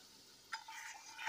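Tomato puree being stirred into spiced masala frying in oil, a soft steady sizzle with a brief louder scrape of stirring midway and another toward the end, close and fairly quiet.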